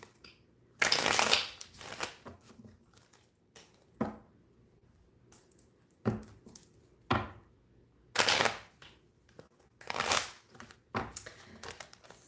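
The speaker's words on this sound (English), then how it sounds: "I'm going to give these cards a good old shuffling" Tarot cards are shuffled in several quick riffling bursts separated by short pauses, close and crisp in a quiet room.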